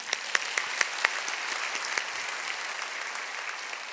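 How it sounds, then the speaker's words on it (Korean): Congregation applause at Suwon Jeil Church during a dawn prayer service, with a few sharp, close claps leading into a broad, even wash of clapping from many people, moderately loud and sustained. "박수 한번 하겠습니다."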